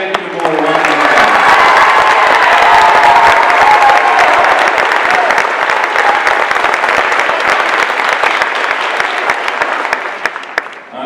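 An audience at a high school marching band appreciation concert gives the executive board a long round of dense, sustained applause. The clapping fades gradually near the end.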